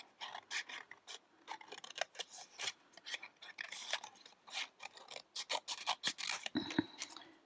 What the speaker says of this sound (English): Let me cut another hand off.